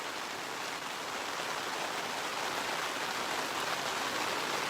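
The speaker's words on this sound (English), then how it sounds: "It's raining." Steady rain hisses evenly, a soft continuous patter with no breaks and no voices.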